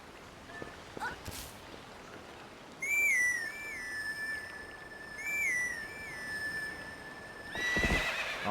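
A horse neighs and whinnies in the Zelda Twilight Princess video game, bright repeated whinnies with hoof clip-clops, game music and whistle-like tones over a steady background.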